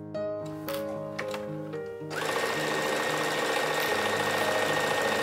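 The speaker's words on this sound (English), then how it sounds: "So I am just going to put a stitch right across there." A sewing machine stitches across a dress seam, with a few short starts before a steady, continuous run of fast needle chatter and motor hum that stays close and loud.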